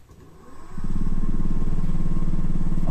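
A small lathe screwed to a wooden bench that is fixed to a wall starts up, a low hum swelling in about a second into a steady, loud motor drone with a rapid rhythmic vibration beneath it.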